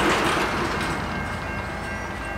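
An EMD SD70ACE freight locomotive and its train rolling past a railfan spot in Thomasville, North Carolina, heard as a loud, close, steady rumble of wheels and cars with faint rail clatter.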